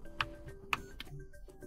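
A Keychron K8 QMK Version 2 mechanical keyboard is typed on in a short, quiet burst of a few crisp clicky keystrokes, close up and irregular, with no talking.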